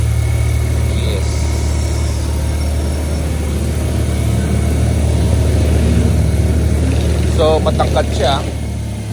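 A BMW R12GS 1200cc motorcycle idles nearby, a steady low engine drone running throughout while someone talks over it.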